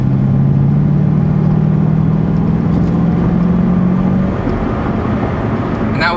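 A 2007 Chevrolet Corvette engine pulls hard at half throttle, a deep droning exhaust note holding steady and loud before dropping off near the end as the car settles.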